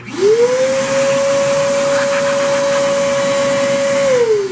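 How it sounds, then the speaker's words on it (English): A desk vacuum in a home electronics workshop switches on. Its motor whines up to a steady, loud, close drone, holds for several seconds and then starts to wind down, with no talking. "this switch turns on the vacuum"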